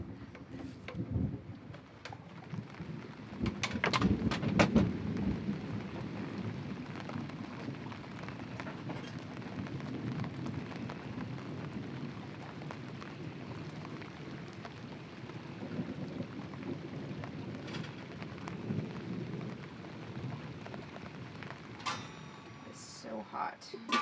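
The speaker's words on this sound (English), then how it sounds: "the rain's letting up a little bit. The storm is still here" Steady rain falls on the deck of a sailboat during a lingering thunderstorm, with a low rumble of thunder and a few sharper knocks early on, while a voice speaks briefly over the patter.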